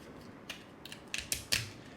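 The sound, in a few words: tearing apart ant bait traps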